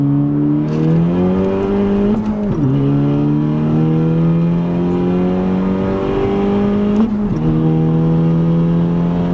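A 2018 Honda Civic Si with an aftermarket intercooler and charge pipe pulling uphill in second gear, a loud steady engine drone rising in pitch, with two brief dips where the revs fall and then climb again.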